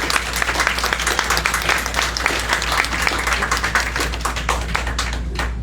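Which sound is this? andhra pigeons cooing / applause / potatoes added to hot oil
applause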